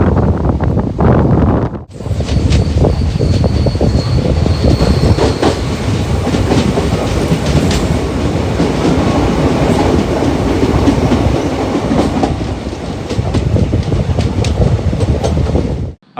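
A passenger train on the Nagercoil to Thiruvananthapuram route rolls along with a continuous loud rumble and rhythmic clickety-clack of wheels, buffeted by wind noise, after a brief dip near the start.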